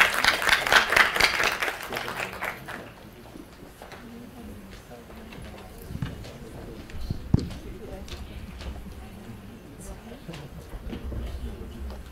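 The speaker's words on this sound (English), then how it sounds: "Let us give a round of applause to welcome Dr. Michael on stage" A symposium audience claps to welcome a speaker on stage, a brief burst of applause at the start that quickly dies away into room noise, footsteps and shuffling.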